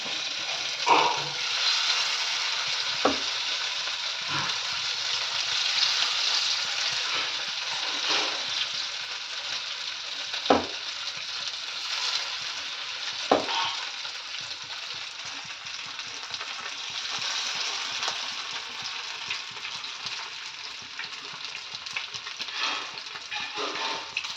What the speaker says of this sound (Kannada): ಮೀನು ಜಾಸ್ತಿ ಫ್ರೈ ಮಾಡಿ ಇಟ್ಕೋಬಾರ್ದು